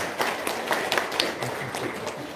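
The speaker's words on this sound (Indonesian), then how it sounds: "tepuk tangan dong untuk Lukman" Audience clapping at an informal religious gathering to welcome a man named Lukman forward, a scattered, moderately quiet patter of hands with a few sharper claps over room noise.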